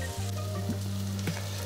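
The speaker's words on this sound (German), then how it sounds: "Das braten wir uns jetzt mal so ein bisschen an, damit wir ein bisschen Röstaromen bekommen." Sausage frying in a pan to build roasted flavour, a steady close sizzle with a low hum under it and a few soft clinks of stirring.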